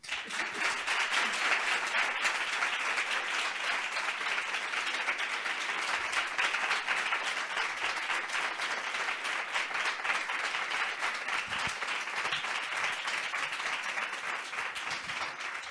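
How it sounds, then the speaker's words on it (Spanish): A cultural-centre audience in Callao gives a welcoming round of applause for an invited guest, a dense, steady clapping that goes on unbroken for many seconds at an even, fairly strong level. "vamos a tener este pedazo de aplauso a la altura del invitado"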